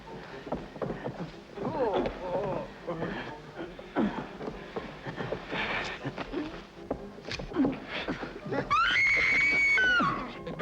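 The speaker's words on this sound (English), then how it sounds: "Do I hear a lady screaming?" A woman screams near the end, a high sustained shriek rising above a busy film soundtrack of voices talking and clattering movement that fills the earlier part.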